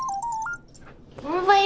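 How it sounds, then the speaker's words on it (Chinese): A mobile phone rings with an incoming call, a short electronic melody of stepped tones lasting about half a second, followed by a pause and then a voice speaking. "陆千初怎么突然打电话？"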